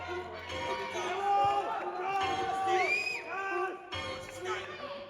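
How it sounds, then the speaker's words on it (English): A bodybuilding show audience whoops, shouts and cheers loudly and continuously after a most muscular pose, with scattered applause and voices calling out over a steady low background. "Audience members, Yes. a round of applause"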